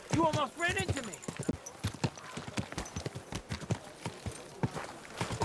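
Horse hooves clip-clop along a street in Kingdom Come Deliverance 2, a steady run of sharp close hoofbeats under continuous talk from townsfolk.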